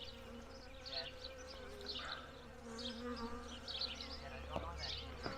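Honey bees buzzing close by while bee packages are installed into a hive, a steady droning hum with individual bees zipping past, fairly quiet and continuous.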